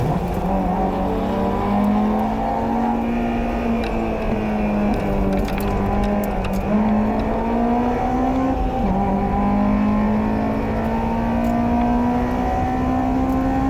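Honda S2000 lapping a race circuit in a time trial, its engine note loud and close throughout, a steady high howl with gear-change dips and rising pitch as it accelerates, no talk.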